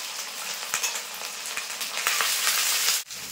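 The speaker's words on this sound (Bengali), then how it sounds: "এবার দিয়ে দেবো আদা রসুন বাটা" Onion, ginger and garlic paste frying in a pan with whole garam masala for a fish kofta curry, giving a steady, close hiss of sizzling oil with a few soft stirring clicks and no voices.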